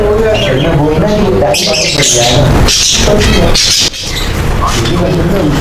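Lovebirds squawk and chirp in an aviary, in loud, repeated sharp bursts close by, while people talk over the calls.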